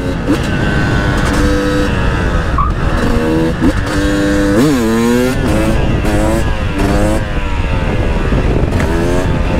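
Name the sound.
two-stroke motorcycle engine revving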